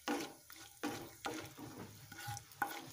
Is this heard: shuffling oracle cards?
no